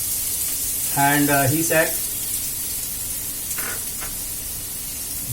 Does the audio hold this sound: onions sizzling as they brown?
yes